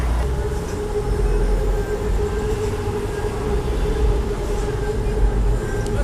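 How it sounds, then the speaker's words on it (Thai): A BTS Skytrain leaves Siam station in Bangkok with a steady heavy rumble and faint wheel squeal, loud and close, continuing evenly throughout. "เดี๋ยวเรามาเล็งรถไฟฟ้ากันดีกว่า"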